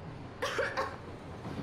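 A single short cough from a character in the video game Metro Exodus, close and fairly loud for about half a second before quiet background hum returns.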